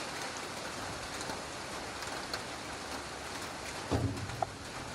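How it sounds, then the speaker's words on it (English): Rain pours down steadily over an outdoor football pitch in Goa during a pro league match, a continuous wide hiss with a brief thump near the end, no voices audible. "looks like Goa is being blessed by rains even in this part of the season"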